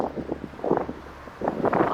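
Gusty outdoor wind buffets a handheld microphone on a walk toward a garden gazebo, making uneven low rumbles and bursts of muffled noise that rise and fall across the short stretch.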